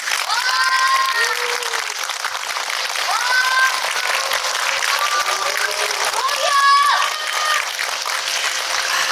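Audience applause greets the director and actors at a Korean film screening and audience Q&A, steady and dense throughout, with talk and whoops over the clapping.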